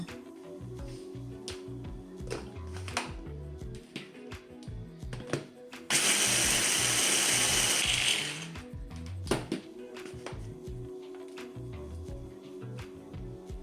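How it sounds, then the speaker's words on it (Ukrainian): A kitchen blender grinds 150 grams of oat flakes into flour in one loud, steady burst of about two seconds, set amid quieter clattering and handling sounds. "150 грам вівсянки. Перебиваю блендером."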